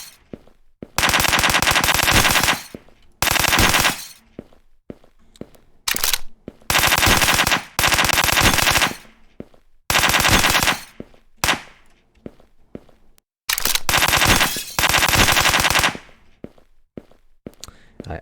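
Gunfire in a zombie video game set in a neighborhood: loud rapid machine-gun bursts in repeated strings of one to two seconds, separated by short quiet gaps, with some single shots and clicks between.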